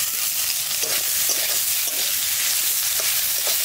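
Potatoes added to a pan of fried onion, cumin and spice mix sizzle steadily with occasional stirring scrapes, a continuous close frying hiss throughout.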